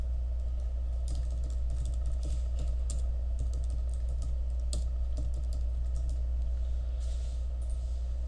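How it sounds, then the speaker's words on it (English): Someone types a password on a computer keyboard: a quick, irregular run of light key clicks, close but fairly soft over a steady low hum, with no talking. "go ahead and type in your current password"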